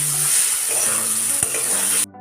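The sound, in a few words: sautéing spice paste (masala) in oil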